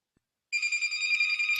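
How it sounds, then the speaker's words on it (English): An office telephone rings with a steady electronic trill that starts suddenly after a short silence and keeps pulsing, close and clear, with no talking over it. "of course the phone's ringing."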